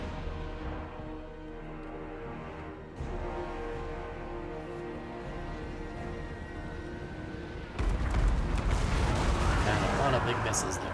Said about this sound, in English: And there goes the artillery.